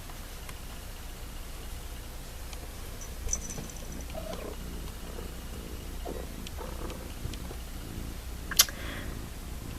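A pet cat purring close by during a quiet crochet session, a soft steady low rumble under faint room noise, with a few small clicks and a brief sharp tap near the end.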